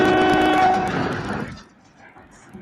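A Dutch NS passenger train sounds a loud, sustained horn blast up close, which cuts off after about a second and a half and leaves a quieter background.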